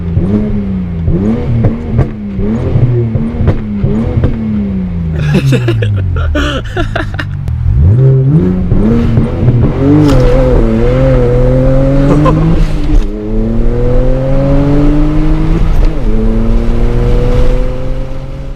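BMW E30, E36 and E92 cars doing burnouts, engine revving hard with rising and falling pitch, a burst of crackling backfire pops midway, continuous and loud at close range.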